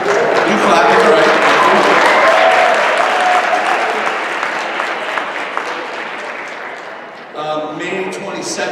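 Audience at a Belleville Board of Education meeting breaks into sustained applause, loud and dense at first, then gradually thinning, with voices rising over the tail end.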